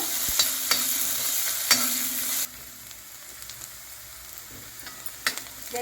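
Shallots and garlic fry in a pan with a steady sizzle, loud at first and then dropping to a quieter hiss, broken by occasional scraping stirs and light knocks, with no voices.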